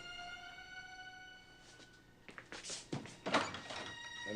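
Door opening indoors: quiet rattling and handle clicks build up into a louder scraping, thudding swing of the door, heard close over a faint steady hum.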